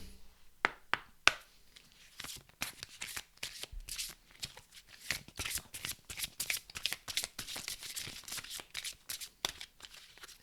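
Past-lives oracle cards are shuffled by hand, with a few sharp riffles followed by a long run of quick, close papery flicks.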